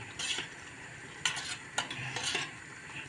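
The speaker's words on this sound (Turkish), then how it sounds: "Karıştırıyorum." A spoon stirs bulgur with oil in a pot, soft scraping strokes with a few sharper clinks against the pot, close but quiet, no voices.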